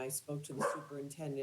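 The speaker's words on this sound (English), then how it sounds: "sorry about my dog" A pet dog barks in a few quick, fairly faint yips in the background of a committee meeting, heard under a man's steady speech.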